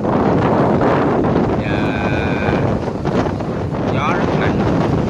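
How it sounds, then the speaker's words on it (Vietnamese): Strong wind sweeps across Đầm Thị Tường lagoon in Vietnam as dark clouds bring rain, a loud, constant buffeting roar on the microphone with a few brief tonal squeaks and some voices underneath. "gió rất mạnh, mây đen kèm tới đây"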